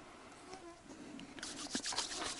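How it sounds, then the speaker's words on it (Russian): Mosquitoes buzzing in a forest during an overnight hiking trip, a thin high whine that grows louder and busier toward the end, close to the microphone, with no talking. "Фух, комарья, конечно."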